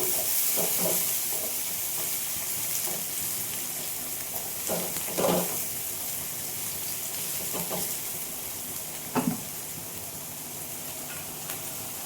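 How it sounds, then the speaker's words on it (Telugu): Onions fry in a pan for spicy chicken roast, a steady soft sizzle with occasional stirring scrapes and clinks, fairly quiet and alone. "ఆనియన్స్ బాగా ఎర్రగా వేయించుకోవాలి"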